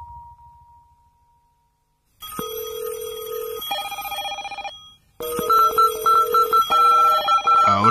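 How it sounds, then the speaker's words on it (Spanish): Telephone ringing in a documentary setting, clear electronic ring tones in two bursts after a brief faint tone and a quiet gap, loud and close with no talk. "imaginen que hacen una llamada telefónica"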